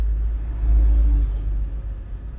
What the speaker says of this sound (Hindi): ये मेरी गाड़ी घूम रही है